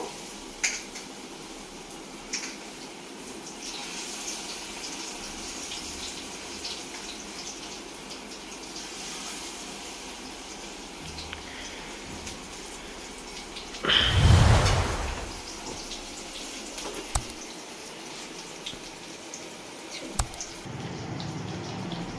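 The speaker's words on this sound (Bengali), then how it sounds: "এইভাবে বাকি বেগুনিগুলো আমি ভেজে নেব" Eggplant fritters (beguni) fry in hot oil with a steady soft sizzle and scattered crackles, punctuated by one brief louder splash or clatter midway.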